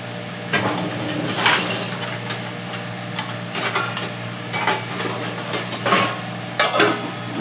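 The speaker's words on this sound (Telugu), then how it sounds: "దాని మీద మూత పెట్టుకుందాం." A metal lid is set on a cooking pot, giving several short clanks and rattles that arrive in scattered bursts over a steady background hum in a kitchen.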